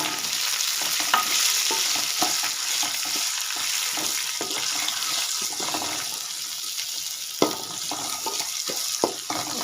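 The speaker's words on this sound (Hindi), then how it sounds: "इसको अच्छे से मिक्स करेंगे, साथ में भूनेंगे।" Vermicelli with ground coconut is stirred and roasted in a pan, giving a steady sizzle and scraping with irregular clicks from the spoon against the pan. There is no talking.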